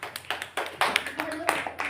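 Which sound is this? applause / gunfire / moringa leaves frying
applause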